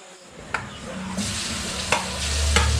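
Onion and garlic hit a generous amount of hot oil in a pan for garlic chili sauce, giving a loud, steady sizzle with a few brief stirring scrapes, close up and with no talking.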